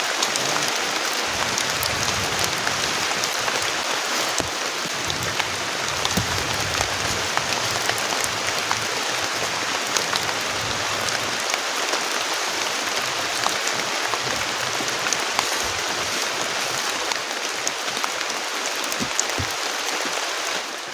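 Heavy rain pours steadily on a campsite during a stormy camping trip, a dense, even hiss that holds at full strength throughout with no voices.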